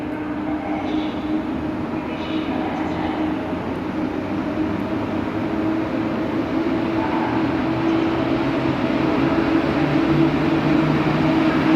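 A passenger train pulls out of Warszawa Zachodnia station with a steady, continuous rumble and low hum of rolling stock that holds at moderate loudness throughout.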